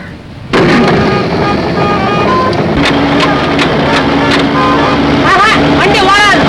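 A car engine cranks and catches, then runs as a loud, steady broadband rumble for several seconds while people talk over it.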